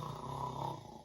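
A voice imitates a long drawn-out snore, one sustained nasal rumble that fades at the end, heard close and alone.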